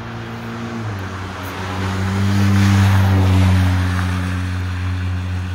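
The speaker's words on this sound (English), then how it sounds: "Tons of traffic." Busy morning street traffic near a bus stop, with the low engine rumble of a large vehicle swelling as it passes close by, then easing off over a steady background roar.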